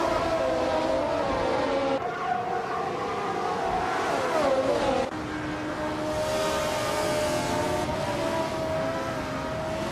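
Engines of race cars roar continuously through a race, a loud, steady drone with shifting pitch as the cars pass, and no pauses across the stretch.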